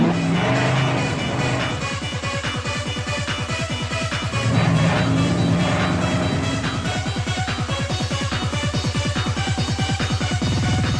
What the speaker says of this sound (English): It's called drifting.